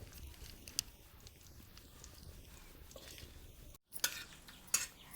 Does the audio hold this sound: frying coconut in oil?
yes